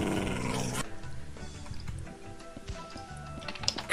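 A Minecraft wolf growls in a video game, with low rumbling snarls after a brief louder burst at the start, fairly faint and without speech.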